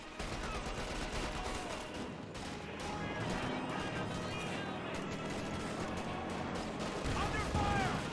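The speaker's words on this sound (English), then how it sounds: "50 cal sitting on up, which will start getting some bursts on that Sturm Pioneer as well" Bursts from a .50 cal machine gun in a Company of Heroes 2 battle, mixed into continuous rattling gunfire and explosions, moderately loud, under a caster's running talk.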